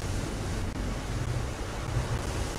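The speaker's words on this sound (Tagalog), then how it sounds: "Ayun o, ayun o. Tubig o. May tubig o." Water rushing in as the Titanic sinks in a Roblox game, a steady broad roaring wash like surf with low rumbling, constant and fairly loud with no talk over it.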